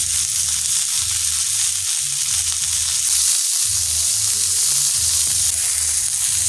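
Fish frying in hot oil in a pan, a loud continuous close sizzle with a faint low rumble underneath and a brief dip partway through.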